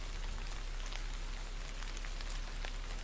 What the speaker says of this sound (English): It's raining as we leave the mansion